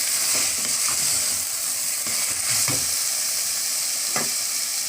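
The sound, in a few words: stirring and frying masala for mushroom biryani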